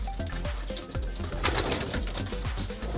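A pigeon coos repeatedly in a steady run of soft, low rolling calls, close by over a constant background hiss, with no speech.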